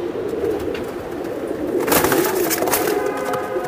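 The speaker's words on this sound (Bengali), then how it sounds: "অনেক বড় বিশাল সাইজের কবুতর" Large pigeons at a pigeon farm coo steadily in low, throaty tones, with the cooing swelling louder midway through against a busy background murmur.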